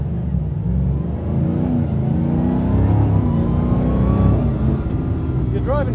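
An off-road racing Land Rover drives on a public road, its engine droning and revving steadily and loudly from close inside, with a continuous low rumble throughout.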